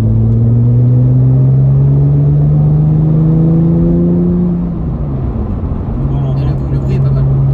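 A Porsche 996 Turbo engine and exhaust drone steadily while driving, rising in pitch under acceleration before easing off and settling into a lower, even cruise, heard from inside the car.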